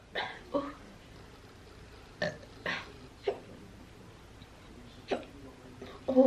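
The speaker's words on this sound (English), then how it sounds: "Oh, I get hiccups now." A person eating a turkey leg in alfredo sauce with beer hiccups repeatedly, sharp close gulping catches spaced irregularly over several seconds, with a louder sound at the end.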